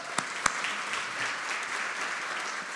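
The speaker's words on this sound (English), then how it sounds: "Let's give a round of applause to that." Audience applause at a spring closing session, a steady wash of clapping from a crowd, with two sharp near claps at the start.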